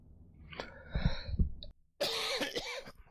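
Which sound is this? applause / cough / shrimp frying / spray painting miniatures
cough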